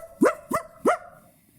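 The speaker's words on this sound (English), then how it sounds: "Each dog knows its own name because it's a certain bark." A dog gives three quick, loud, sharp barks close by in a clear rhythm, then falls silent.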